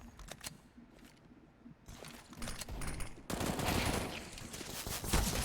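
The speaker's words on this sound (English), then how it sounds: "Sousel with the early peek there into B tunnel will convert on the FAMAS headshot." Rapid bursts of FAMAS rifle fire in a competitive shooter match, loud sustained automatic volleys building and overlapping near the end with no talk.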